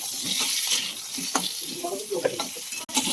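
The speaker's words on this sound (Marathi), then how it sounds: "त्याला तेल टाकलं तर आपण यात वांग टाकायचं आणि वांग्याला ना थोडंसं आपण परतून घ्यायचं" Eggplant sautéing in hot oil in a pan, a soft continuous sizzle with intermittent stirring scrapes and a brief clatter near the end.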